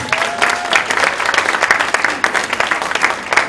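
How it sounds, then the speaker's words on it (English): An audience gives a round of applause at the CARIMAC CSN7 View and Sip event, loud, continuous clapping lasting a few seconds with a little crowd noise and no talking. "A round of applause one more time for them, please."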